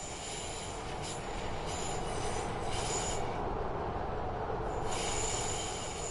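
A Class 153 Super Sprinter train in a train simulator video game, rendered as a steady rolling rumble of wheels on rail with a faint high squeal, continuous and even throughout without speech.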